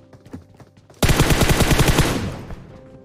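Automatic gunfire from PUBG Mobile bursts in loud and close: a rapid, evenly spaced string of shots that runs for about a second and a half, then fades into a softer tail.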